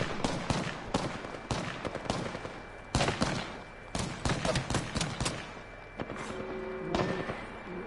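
Video game gunfire in Apex Legends, dense loud bursts of rapid automatic shots and single cracks in quick succession, some sounding nearer and some farther, without talk over them.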